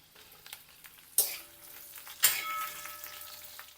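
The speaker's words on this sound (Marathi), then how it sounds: "त्यानंतर कढईमध्ये घालूया कांदा" Onion frying in a kadhai with lentils, byadgi chillies and garlic, a steady close sizzle broken by two sharp bursts of stirring scrapes, then settling back to a softer hiss.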